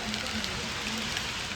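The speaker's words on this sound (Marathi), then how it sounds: "आणि केवढा मोठा वारा आणि पाऊस चालू आहे बघा." Heavy rain with wind at a village house in Maharashtra, a dense, steady hiss of downpour filling the whole stretch with no break, close and loud.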